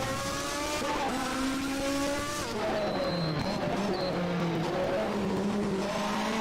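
Race car at a round of the European Hill Climb Championship, Subida Internacional al Fito, with a BMW on course: a loud, sustained engine note rising and falling through gear changes, close by, with faint tire squeal.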